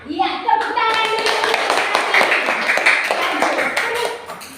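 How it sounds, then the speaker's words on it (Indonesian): Children in an Indonesian primary classroom clap their hands together in a dense, fast burst lasting several seconds, loud and close, with young voices chattering and shouting over the clapping throughout. "Iya, tepuk tangan dulu."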